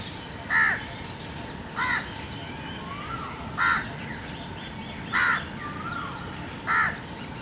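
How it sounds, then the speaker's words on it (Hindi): Crows caw outdoors, five loud harsh calls spaced about a second or so apart. Quieter bird chirps and a faint steady hum sit between them. "ये भी चिड़ियां चहचहा रही हैं"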